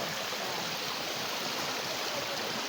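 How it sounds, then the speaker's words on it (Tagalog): A river stream on the Tarak Ridge hiking trail in Mariveles, Bataan, rushes with a steady, even hiss of flowing water at a moderate distance, with no voices. "Yan ang ilog."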